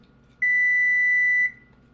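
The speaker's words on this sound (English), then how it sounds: "I set the alarm so I wouldn't forget the yeast." A single electronic timer alarm beeps as a reminder while yeast proofs for low-carb buns in a home kitchen, sounding one steady, loud, high-pitched tone for about a second before cutting off, with no talking.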